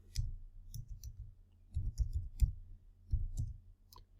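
Keys tapped on a computer keyboard while entering keywords in Adobe Lightroom: short clusters of crisp, close clicks separated by brief pauses.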